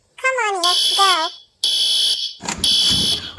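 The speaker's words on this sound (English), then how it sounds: "The fire alarm is going off." A cartoon fire alarm blares in three loud, steady high-pitched electronic bursts, the first overlapping a short vocal outburst and the last under a clatter of noise.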